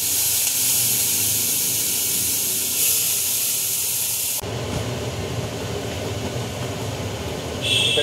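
Soybean paste hitting a hot pan with a green chilli for soybean bata, sizzling in a loud, steady hiss that abruptly shifts to a lower, fuller frying crackle midway and keeps going.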